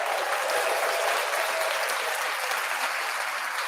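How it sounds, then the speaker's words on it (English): A recorded round of applause plays back, a dense, even clapping from a crowd that holds steady throughout without any talk over it. "Quite nice, that, isn't it? That round of applause."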